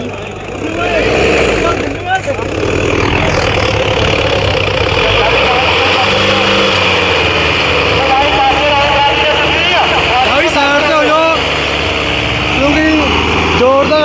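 A Sonalika tractor engine labours steadily while pulling a loaded trolley in a pulling contest, its loud, continuous drone running under a crowd's chatter and shouts, with a brief dip near the start.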